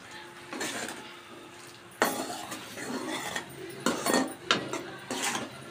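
A spoon stirs sugar syrup in a metal pan while making coconut sweet, giving close, irregular scrapes, clinks and knocks against the pan.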